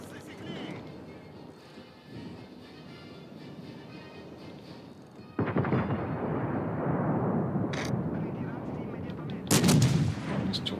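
Naval gunfire in a warship video game, with the Belfast among the ships in action: a steady distant rumble gives way to a loud heavy barrage, then a sharp close blast near the end, with someone talking intermittently.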